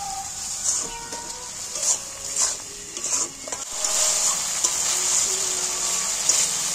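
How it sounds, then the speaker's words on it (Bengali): Ginger-garlic spice paste frying in oil for a chicken skin dish, a steady sizzle with scattered scraping and stirring knocks, a few light clatters up front, then a fuller, louder hiss toward the end. "এইবার কষিয়ে নেব আদা রসুন। এবার নাড়তে নাড়তে ভাজা ভাজা হয়ে যাবে।"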